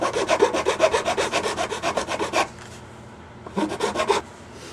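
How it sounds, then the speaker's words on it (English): A triangular file working corners during a roof rack light install, rapid rhythmic rasping strokes close up, a short pause, then another brief burst of filing. "triangular file. It really cleans up the corners nice."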